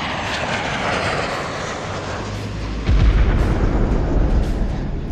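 Sabre jet fighters roar in a loud, broadband rush that surges heavier partway through, like planes sweeping in low overhead on a bombing run over an airfield.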